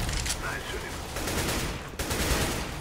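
Rapid automatic gunfire in Counter-Strike: GO, a dense continuous burst of shots with a short break near the middle.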